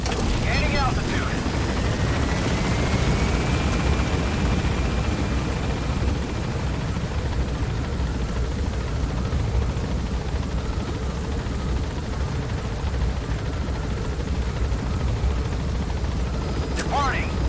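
A helicopter in the video game Metal Gear Solid V lifts off, a dense, steady roar of rotor and engine throughout, with a faint rising whine early on.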